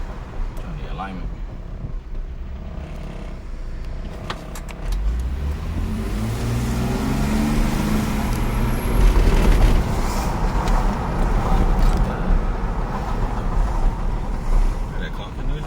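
A Dodge Durango SRT engine runs steadily on a test drive, then its pitch climbs as the vehicle accelerates, with road and wind rumble underneath.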